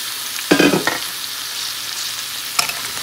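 Cauliflower, potato and paneer being stir-fried with spices in a pan, a sizzling hiss broken by a few sharp scraping stirs near the start and one more near the end, close and clear with no voices.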